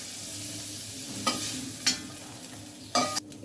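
Prawns frying in hot oil in a wok give a steady close sizzle, with a few sharp scrapes of a spatula.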